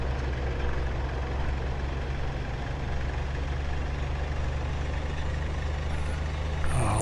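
A car engine rumbles steadily in the DCS P47 Wolfpack campaign, giving a continuous low, even drone with no talk over it.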